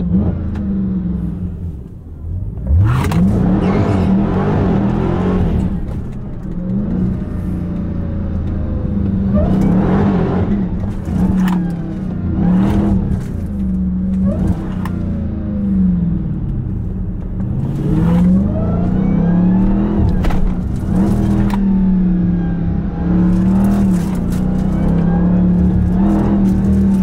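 A Dodge Hellcat being driven hard through downtown Philadelphia streets, with repeated sharp engine revs and bursts of acceleration rising and falling over a continuous low exhaust rumble, loud and close throughout.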